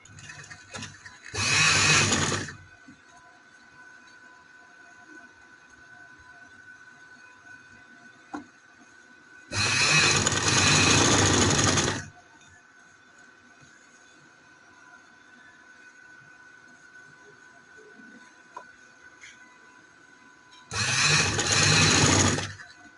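A sewing machine stitching a winter frock runs in three separate bursts of a few seconds each, a loud whirring rattle with quiet pauses in between.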